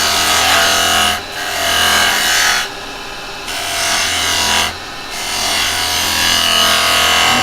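A woodturning lathe spins as a hand tool cuts into the wood, giving a loud close scraping, rasping hiss in three sustained passes with brief breaks between them.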